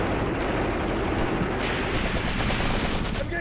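Sustained gunfire in the WWII tactics game Graviteam Tactics Mius Front, dense overlapping rifle and machine-gun bursts crackling continuously at moderate distance, with no voices.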